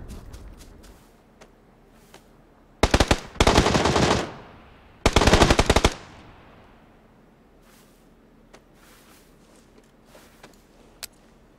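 Suppressed Saiga shotgun fire from the PUBG video game: two dense bursts of rapid shots around three and five seconds in, loud and close, with quiet game ambience and faint clicks before and after.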